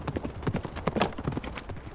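A horse gallops toward a jousting quintain target, its hooves drumming in a quick, steady rhythm on turf, close and prominent with no talk.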